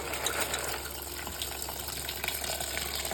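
Water pours in a steady stream into a pot of shikakai pods, a continuous splashing gush over a low background hum.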